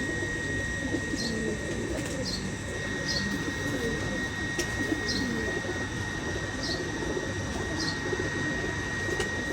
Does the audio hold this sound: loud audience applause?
no